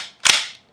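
A single sharp crack from a BinTac PA 30 pump action air rifle, close and loud, with a short fading tail and no voices.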